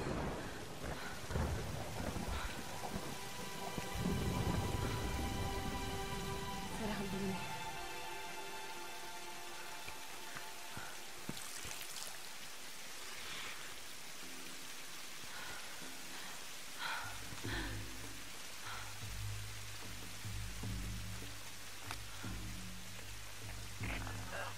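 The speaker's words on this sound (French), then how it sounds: "abritez-vous de la tempête" A thunderstorm with rain rages in the video game Tomb Raider (2013). Deep, rumbling thunder rolls in at the start, followed by sharp cracks. A constant hiss of rain continues underneath, with a low droning tone in the final stretch.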